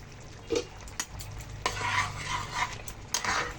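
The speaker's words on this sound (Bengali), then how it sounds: "যতক্ষণ না হবে ততক্ষণ ভালোভাবে আমরা আচারটাকে নাড়াচাড়া করে রান্না করে নেবো" Shredded raw mango pickle with nigella seeds and spices is stirred in a pan, producing close scraping strokes and light clinks over a soft, steady sizzle, with no voices.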